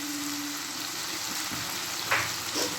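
Chopped red and green capsicum, green chili, ginger and garlic fry in a pan with a soft, constant sizzle, joined near the end by a few brief scraping stirs.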